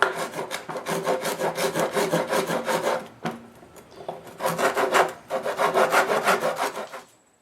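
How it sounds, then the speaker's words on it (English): A wood rasp scrapes back and forth inside a cut dado gap in a wooden leg, smoothing burrs in quick rhythmic strokes, loud and close, with a brief pause midway before another run of strokes. "The last step is using a wood rasp to smooth out all of the burrs and excess wood in the gap."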